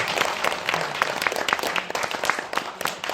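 An audience at a library talk for the documentary film El Camino claps, with scattered, uneven hand claps at moderate volume, some sharp individual claps standing out over a loose, thinning patter.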